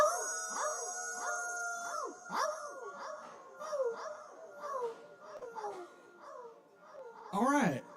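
A crowd at a poetry open mic in Asheville imitates wolves, several voices howling in overlapping rising and falling wails, repeated in waves with short gaps and a final loud burst at the end.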